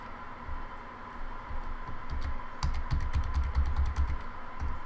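Computer keyboard keys pressed one after another while testing a faulty keyboard during a repair, giving crisp close clicks in an uneven run over a steady background hum.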